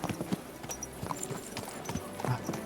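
Hooves of a horse clip-clopping in Kingdom Come Deliverance II, a steady walking rhythm of soft, fairly close hoof strikes over ambient game sound, with a brief faint snort or whinny.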